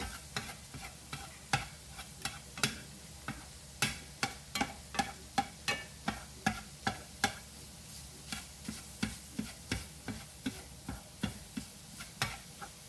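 Sausage and onion browning in a pan for a from-scratch meat sauce, stirred with a utensil that scrapes and taps the pan in a steady rhythm of sharp clicks over a low, soft sizzle, close and with no voices.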